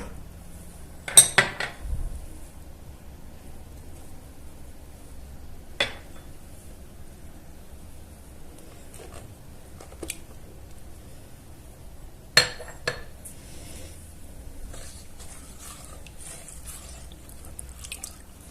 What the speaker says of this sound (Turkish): şekilde hepsini döküp güzelce karıştıracağız